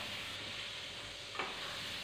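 Bakwan vegetable fritters frying in oil, a soft, steady low sizzle with a brief louder crackle as something stirs or drops in near the end.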